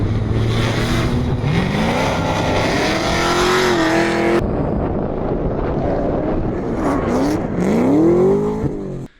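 An LS-swapped car races hard at Horse Thief Mile, its engine loud and close, revving up and down through rising and falling pitch with heavy wind buffeting the microphone.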